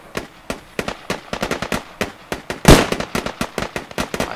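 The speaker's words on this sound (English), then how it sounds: "I'm using a sniper rifle." Sniper rifle fire in the military shooter Squad, heard as a fast string of sharp, close cracks and pops with one louder blast in the middle, dense and loud, no talking.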